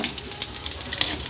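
Panch phoron spices sizzling in hot oil in a pan with dried red chillies and bay leaves, giving a steady close crackle with sharp pops scattered through it.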